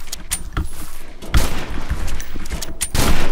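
Gunfire in the STRAFTAT video game comes as several loud bursts and sharp shots at irregular intervals, layered over busy game noise and clicks.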